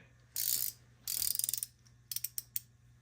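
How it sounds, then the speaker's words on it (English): Anbull flex head ratcheting tube wrench on a 14 size, clicking through several ratchet strokes: two longer buzzing runs of rapid clicks, then a few separate, distinct clicks near and fairly loud, no talking. "The ratcheting doesn't sound too bad."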